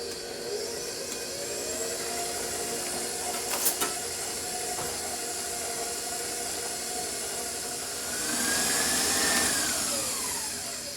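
An electric mixer beats gluten-free shamrock cookie dough made with gluten-free flour blend, baking powder and salt: a steady motor whine with a clatter near the middle, then a louder rising pitch toward the end.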